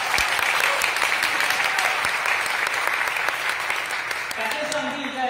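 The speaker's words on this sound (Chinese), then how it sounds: "首先，先给自己一个热烈的掌声，" Wedding guests applauding at a reception, dense sustained clapping from a crowd that carries on throughout and thins slightly at the end.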